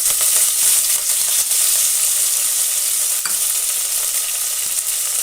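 Curry leaves drop into hot oil with mustard seeds, cumin, asafoetida and mint for a brinjal palya. The result is a loud, continuous close sizzle with scattered crackles and one sharp pop.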